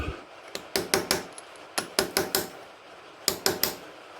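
A small flat metal drift is hammered against a chain pin during a sprocket and chain kit fitting, giving sharp ringing metallic strikes in three quick bursts of three to four blows each, close and loud.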